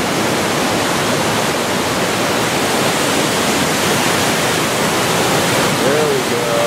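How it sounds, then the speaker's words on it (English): Flooded river tributary in Northfield, Vermont, in 2011: loud, constant broadband roar of rushing floodwater, steady throughout with no breaks. "this is a tributary of the other river down in Northfield, Vermont here."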